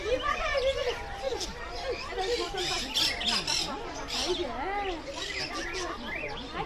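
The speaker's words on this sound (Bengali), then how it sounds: "ককটেল লাভ বার্ডস আলাদা বিভিন্ন রকম প্রজাতির পাখিগুলো এই একই খাঁচার মধ্যে রয়েছে" Many cockatiels and lovebirds squawk and chatter at once in a mixed zoo aviary, a dense, continuous din with overlapping shrill calls.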